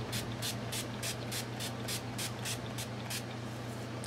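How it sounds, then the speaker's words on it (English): Makeup setting spray is pumped from a bottle in about a dozen quick, evenly spaced hissing bursts, close to the mic, over a low steady background hum. "Except for my setting spray, and I'm going to do that right now."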